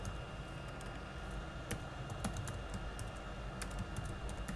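Typing on a computer keyboard, with steady light key clicks and a few sharper taps over a constant low hum, no voices.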